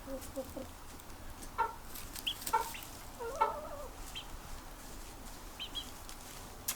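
Baby chicks kept in an enclosure cluck and cheep in scattered short calls at close range, with occasional wing flaps over a steady low background rumble.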